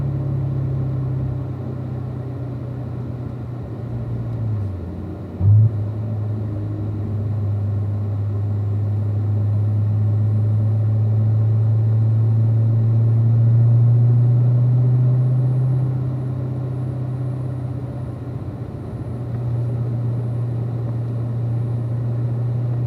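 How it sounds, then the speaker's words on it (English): A group of cars rolling slowly around a track on a cool-down lap, a steady low engine drone and rumble that swells and eases gently, with one brief thump partway through. "Dave, we're going to back our pace down to gather the group up and begin our cool down lap"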